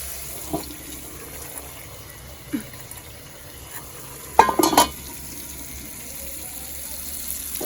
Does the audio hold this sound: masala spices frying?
yes